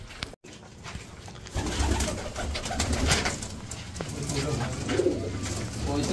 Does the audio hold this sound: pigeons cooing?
yes